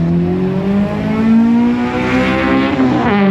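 A Honda Accord with its muffler removed revs loudly and close by, its raw engine note climbing steadily in pitch through one sustained run.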